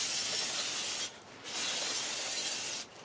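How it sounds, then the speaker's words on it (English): Brake cleaner sprayed from an aerosol can onto the rear differential of a 1999 Ford Explorer, a steady close hiss in two long bursts separated by a brief pause, no talking. "So I'm using brake cleaner."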